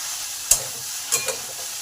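Okra and potatoes frying in a pan, with a few brief scraping stirs against a steady soft sizzle, close and fairly quiet.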